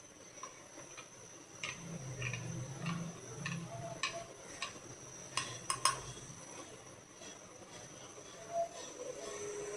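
Milk being stirred into grated carrots fried in ghee in a pan, with light clinks and scrapes of a spoon against the pot, fairly quiet with irregular taps.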